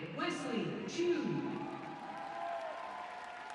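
Applause from the arena crowd at the ISU Four Continents Championships men's free skating in Shanghai, a broad wash of clapping under a commentator's voice that fades toward the end.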